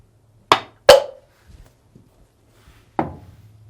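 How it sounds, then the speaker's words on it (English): A hammer strikes a socket to free a stuck rotor during disassembly of a Samsung WA456DRHDWR/AA washing machine, with three sharp metallic taps and faint handling noises between them. "If this piece is stuck on the rotor, use a socket and a hammer"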